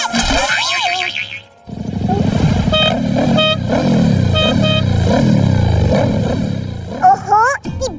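A big cartoon car is stuck in traffic: a rumbling engine with revving, short horn toots and springy cartoon effects, with animated voices talking over it.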